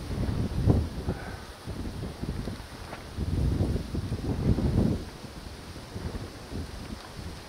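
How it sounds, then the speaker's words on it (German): Icy winter wind gusting over a snowy rock outcrop high on an exposed ridge, a steady low roar with buffeting surges hitting the microphone, no voices. "aber der eisige Wind, der macht einen ganz schön zu schaffen hier oben"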